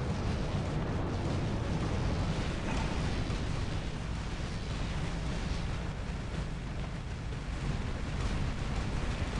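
The Calamity weapon on a mech in the robot combat game War Robots fires continuously, a loud, steady roaring barrage with heavy booming low end and no pauses.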